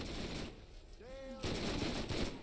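Sustained gunfire from a weapon in the video game BorderQuest roars as a dense, continuous wash, breaking off for a moment before resuming just as loudly.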